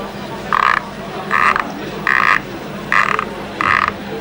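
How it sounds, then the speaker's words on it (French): Frogs croaking in a ditch, five evenly spaced, loud rasping croaks close by, each about a third of a second long, over a faint steady background hum. "En souvenir de votre enfance, le chant des grenouilles."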